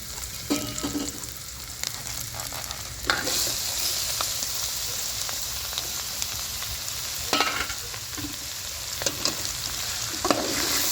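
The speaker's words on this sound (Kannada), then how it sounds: "ಚೆನ್ನಾಗಿ ಉರ್ಕೊಳ್ಳಿ ಎಣ್ಣೆಲಿ ಸ್ವಲ್ಪ ಈರುಳ್ಳಿ ಸೊಪ್ಪು ಎಲ್ಲ ಎಣ್ಣೆಲಿ ಸ್ವಲ್ಪ ಬೇಯಲಿ" Onion and leafy greens fry in oil for a home-style upsaru, a continuous crackling sizzle broken by several scraping stirs, moderately loud with no talk.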